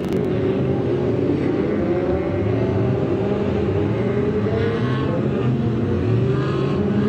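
Stock cars racing at Kings Lynn: a dense, continuous roar of many engines revving and droning around the oval, with rising and falling pitches as cars pass, loud and steady throughout with no talk.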